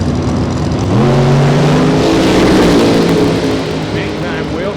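A 2016 Corvette and a Mustang launch off the drag strip line, engines revving and climbing in pitch in a loud, sustained roar, with a crowd or announcer voice running underneath.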